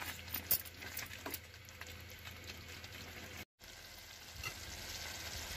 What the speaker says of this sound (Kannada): ಇನ್ನೂ ಒಂದು ಸ್ವಲ್ಪ ಹೊತ್ತು ಕುದಿಸ್ಕೋತಾ ಇದ್ದೀನಿ